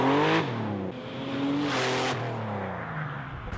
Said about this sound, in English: And the Porsche 930 Turbo has become one of the most iconic cars ever.